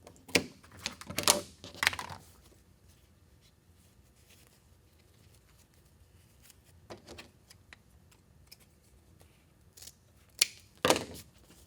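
Scissors snip through ribbon while making a bumblebee wreath: a few sharp close cuts at the start, a lone snip midway, and two more near the end, with quiet between.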